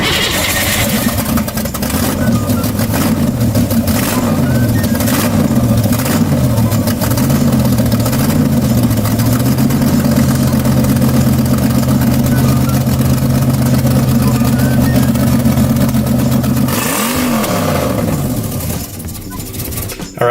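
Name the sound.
Mazda Miata car engine driving off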